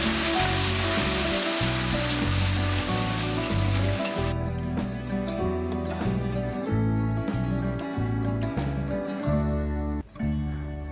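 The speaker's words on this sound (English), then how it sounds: "So this is the paste of the masala, and I will just fry it till the raw smell goes." Masala paste with cumin seeds and red chili frying in a pan, a loud dense sizzle for the first few seconds beneath steady rhythmic background music, which then carries on mostly alone.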